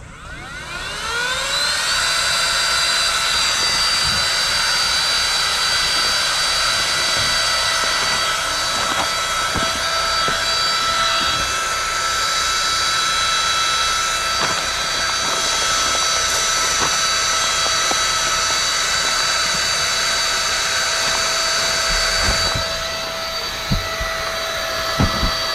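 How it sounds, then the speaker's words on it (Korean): A pump running continuously draws air out of a 25 cm double-chamber air mattress, a loud steady whine with a constant tone lasting the whole stretch. "이제부터 본격적으로 바람을 빼봅시다."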